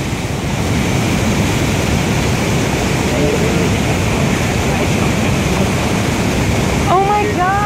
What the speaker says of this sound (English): this leads behind the waterfalls, I believe